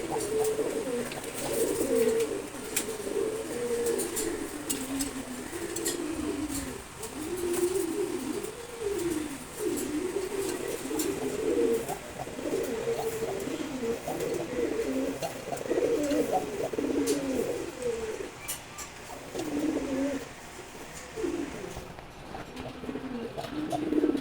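A pigeon pair coos steadily in low, rolling repeated calls, close and continuous over the whole stretch with no talking.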